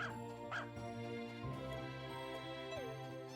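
A dog in the farming game Story of Seasons: A Wonderful Life gives several short yips and barks over steady background music, spaced irregularly across the moment.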